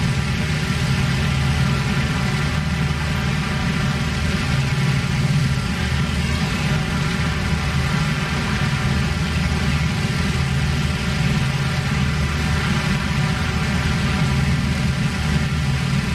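WWII bomber engines in a flight video game drone steadily all around, a constant low, dense roar without pause or talk.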